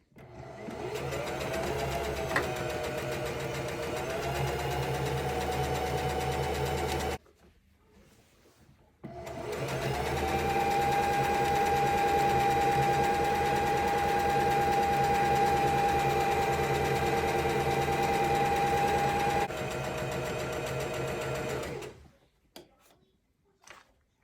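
Sewing machine running a long straight stitch around a ribbon skirt, a steady mechanical whir in two sustained runs split by a short pause, ending with quiet handling noises.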